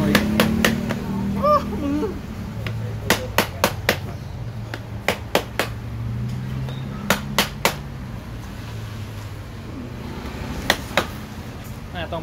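Glass wool packing is pounded with a wooden stick into a Termignoni exhaust silencer from a FORZA300 motorcycle, giving sharp knocks in short clustered bursts over a low background hum with faint voices.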